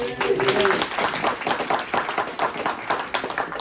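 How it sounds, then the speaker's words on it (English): A convention audience claps for a panel member, the original editor of Battle comics: a moderate burst of many hands, fairly steady, with a voice talking over it at the start. "Give him a round of applause."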